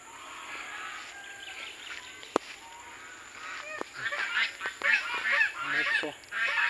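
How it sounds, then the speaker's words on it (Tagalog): Several geese honk in quick, overlapping bursts, growing busier and louder toward the end, with a sharp click partway through. "Maingay yung mga gansa."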